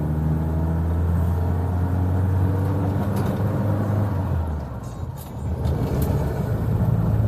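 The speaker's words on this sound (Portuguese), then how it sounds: "Vamos encarar uma subidinha aqui. Olha lá, segunda marcha, né, sem redução." A 1975 Ford Maverick Super four-door climbs a small hill in second gear, its engine giving a loud, close, steady low drone that dips briefly and then pulls strongly again.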